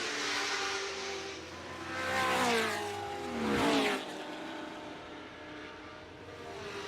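Ford GT40 race cars lapping at the Goodwood Revival in a 2013 Whitsun Trophy race, engines rising and falling in pitch as cars pass by at a distance, with a steady growl between passes.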